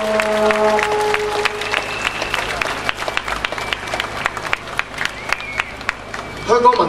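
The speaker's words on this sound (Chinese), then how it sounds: "给点掌声给大家好吗？" Crowd applause at a Hong Kong pro-democracy gathering: a dense, steady wash of clapping with sharp individual claps standing out, mixed with sustained tones and voices, and a louder swell near the end.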